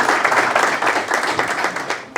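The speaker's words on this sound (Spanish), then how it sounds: "Un aplauso también para Dani Jimeno otra vez." Audience applause at a conference fills the room, dense and steady clapping from many hands sustained at close range with no pauses.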